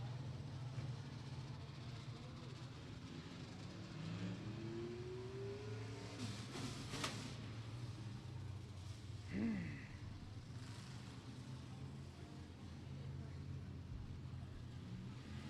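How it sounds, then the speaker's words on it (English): Sport modified race cars rolling onto Beckley Motor Speedway at night: a steady, distant engine drone with a few revs rising and falling, heard faintly and continuously without clear talk. "Getting their sport mods to roll out onto the Speedway."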